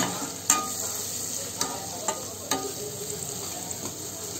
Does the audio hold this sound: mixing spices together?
yes